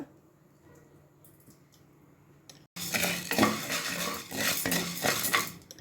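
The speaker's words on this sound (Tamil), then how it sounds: "ஜவ்வரிசியை போட்டு வறுத்து எடுத்துக்கோங்க." Sago pearls dry-roasting in a pan rattle and scrape against the metal, a busy clatter of rolling grains and stirring that starts abruptly after a quiet opening.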